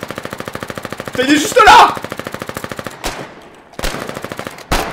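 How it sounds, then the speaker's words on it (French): Machine gun firing in the Foxhole trench-warfare video game, loud rapid even bursts of shots with a few heavier blasts between them, while someone talks briefly. "On a une batteuse qui couvre la tranchée."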